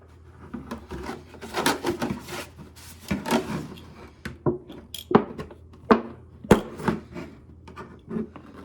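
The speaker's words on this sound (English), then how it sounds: "I just make a few rough cuts with the blade on my box cutter" A box cutter blade saws rough drainage holes into the bottom and sides of a plastic jug, making irregular scraping and rasping strokes with sharp cracks of plastic, close and alone.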